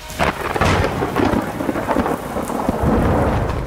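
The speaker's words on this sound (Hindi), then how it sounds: "कड़कती बिजली का जोर, गरजते बादलों का शोर" A monsoon thunderstorm over Karachi: heavy rain pours steadily while loud thunder rumbles and cracks throughout, dense and close, with no voices.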